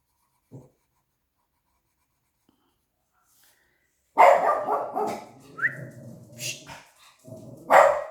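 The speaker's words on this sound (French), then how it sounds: "les chiens, ils ont entendu du bruit" After a quiet stretch, dogs start barking loudly nearby in a rapid, overlapping flurry, with one last sharp bark at the end.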